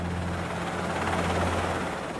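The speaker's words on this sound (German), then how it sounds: "Ein amerikanischer Helikopter schwebt über der Szenerie." An American helicopter hovers over Berlin during the Wall era, its rotor drone steady and loud with a constant low hum and whine filling the whole stretch, without talk.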